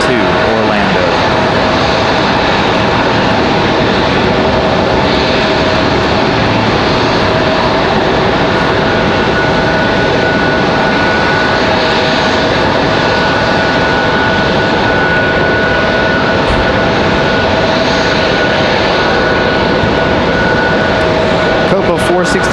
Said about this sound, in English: Republic Airways 5609, that E175L off to Orlando